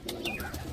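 Caged purebred pigeons coo close by, a short soft throaty coo with a rising and falling warble, lasting under a second.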